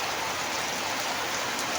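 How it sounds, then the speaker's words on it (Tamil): Steady, unbroken hiss of rain pouring down outdoors, a dense broadband wash of drops with no pauses and no voices over it. "இன்னைக்கு தான் எதா யதார்த்தமா மழை வந்துருச்சு எதிர்பாராத விதமா"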